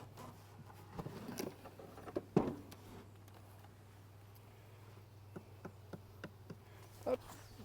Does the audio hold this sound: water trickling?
no